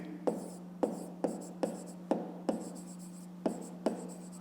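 Pen strokes on paper while a grade 5 math exercise on greatest common divisors is written out, giving about nine soft, close scratches at an uneven pace against a faint steady hum, with no talk.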